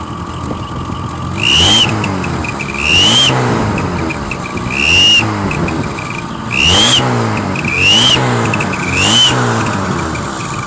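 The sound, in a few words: VAZ 2110 car engine with turbo whistle attachment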